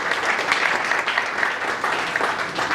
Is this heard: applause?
yes